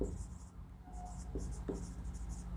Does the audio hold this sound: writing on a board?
yes